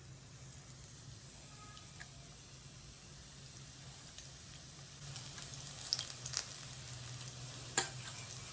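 Methi gota fritters of fenugreek-leaf batter fry in hot oil with a steady, soft sizzle and crackle, broken by a few small clinks and pops from a spoon near the end.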